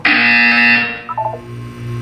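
A loud buzzer in the Portal 2 video game, a harsh steady electronic tone lasting under a second before dropping away into quieter tones and hum.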